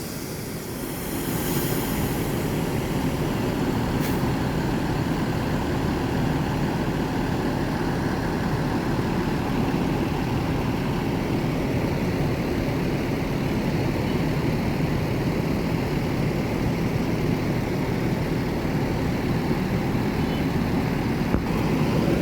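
An executive-class Sumatra intercity bus with an Evobus body idles at the Palembang terminal, giving a steady, loud engine rumble that holds unbroken throughout with no talking.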